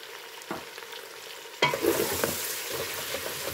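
Onion and curry powder fry and sizzle in a pan while a utensil stirs them, starting with quiet scrapes before a sudden loud burst of sizzling about halfway through that then holds steady.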